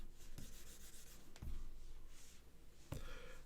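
Pencil shading a drawing on paper: a steady soft scratchy rub runs throughout at low volume, broken by a few brief sharper strokes, with no voices.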